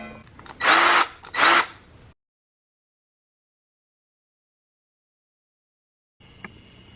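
A power drill whirs in two short close bursts to back out a screw during a ceiling fan installation, followed by silence and then faint room noise.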